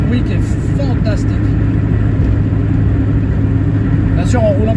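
Loud, steady Mazda MX-5 engine rumble running on ethanol at high revs, with faint rising whine sweeps near the start and end.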